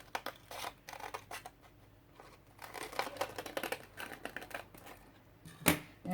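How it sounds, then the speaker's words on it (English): Scissors snip through sandpaper for a mixed media art journal cover, a quiet series of close, dry, crisp cuts in irregular bursts, with one sharper snap near the end. "It's good for scissors to cut through sandpaper."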